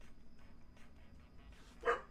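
A single sharp dog bark rings out near the end, heard indoors at a moderate distance over a quiet room hum.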